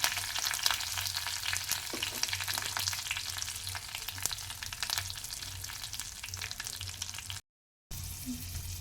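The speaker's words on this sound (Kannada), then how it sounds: "ಇದಕ್ಕೆ ಒಗ್ಗರಣೆ ಕೊಡೋಣ" Mustard seeds, dried chilli, curry leaves and asafoetida tempering in hot oil for a Mangalore cucumber curd sambar, giving a steady close crackling sizzle with light popping throughout and a brief break near the end.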